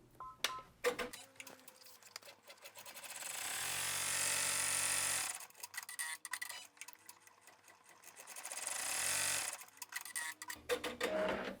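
Computerized embroidery machine stitching down a Velcro strip inside a hoop, its rapid mechanical needle chatter running in two long bursts separated by pauses, close and fairly loud with no voices.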